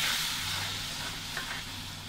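Chili masala for a South Indian crab curry sizzles steadily in a hot pan as hot water goes in, a dense close hiss with soft stirring and a brief bubbling burst near the end.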